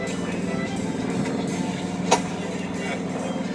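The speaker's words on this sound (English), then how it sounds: "Here we have a TBM Avenger taking off" A TBM Avenger torpedo bomber takes off, its radial engine a steady, throbbing drone with a rapid pulsing beat, with one sharp click partway through.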